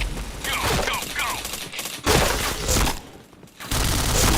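Gunfire in the shooter game Point Blank: loud bursts of rapid shots in clustered volleys with brief gaps, close and dense, alongside game effects.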